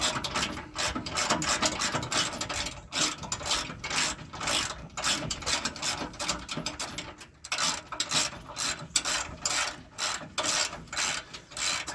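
A hand ratchet cranks bumper bolts tight on a 2010 Jeep Wrangler, a fast, continuous clicking of the pawl in short repeated bursts, close and loud, with no talk.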